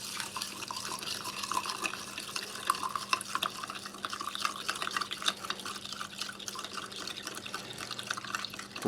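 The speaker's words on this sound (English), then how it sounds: "using the US MRE spoon, we should just mix up this lemon tea" A US MRE spoon stirring a cold lemon tea drink, heard as a steady close swishing of liquid with faint light clinks scattered throughout and no talking.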